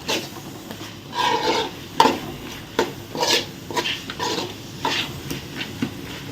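Crab pieces are stirred through masala in a frying pan for a pepper and cumin crab gravy, with repeated scraping strokes about once a second over a low sizzle.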